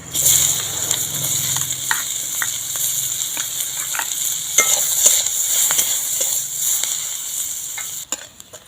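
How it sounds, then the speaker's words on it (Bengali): Panch phoron seeds and chopped onion hit hot oil and sizzle in a loud, steady hiss with faint crackles and occasional stirring clicks, heard up close without speech until a sharp knock near the end. "তেলের মধ্যে দিয়ে দিচ্ছি পাঁচ ফোড়ন পেঁয়াজ কোঁচানো"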